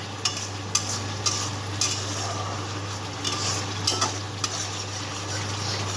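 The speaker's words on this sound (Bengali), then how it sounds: "ভালো করে এটা কিন্তু কষে নিতে হবে যত ভালো মশলা কষা হবে তত ভালো টেস্টিংটা আসবে" Spice masala for doi katla fish curry sautéing in a pan, a steady sizzle with repeated scraping strokes of a spatula and occasional clinks against the pan, close and continuous with no talk.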